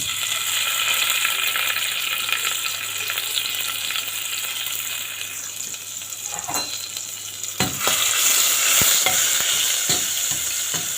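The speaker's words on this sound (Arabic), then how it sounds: "حطيت حله على النار فيها شويه من الزيت وهنزل فيها بمعلقه من الثوم المفروم" Minced garlic fries in oil in a pot on the stove, a steady loud broadband sizzle throughout with a few clinks and stirring knocks near the end, no talk.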